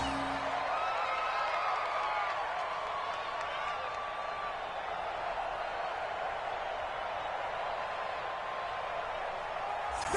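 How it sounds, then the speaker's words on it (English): Steady roar of a stadium crowd inside the Dome during a football video game, a broad, continuous wash of cheering and murmur held at an even level throughout, with commentary voices over it. "The crowd here in the Dome making things difficult."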